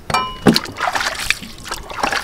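A new iron cooking vessel scrubbed by hand under water, with splashing, sloshing and trickling in uneven bursts, close and loud, without speech.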